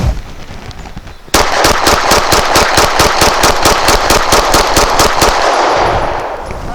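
A CZ P-10C pistol fed with Remington 124 grain rounds fires a rapid string of about two dozen loud, close, evenly spaced shots in steady rhythm, starting after a quiet moment and trailing off into outdoor ambience.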